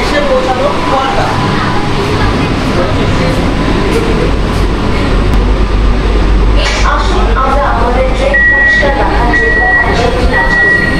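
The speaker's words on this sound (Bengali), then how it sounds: "তাহলে আমাদের ট্রেন এসে পৌঁছালো খড়দা।" An AC local train on the Sealdah–Ranaghat line pulls into Khardah station with a steady low rumble and rattling carriages, then a series of repeated electronic beeps near the end; voices murmur in the background.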